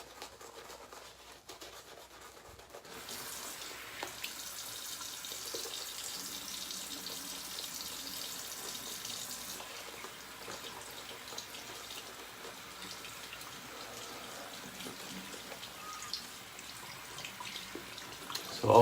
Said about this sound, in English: maybe I could add a little bit more water to this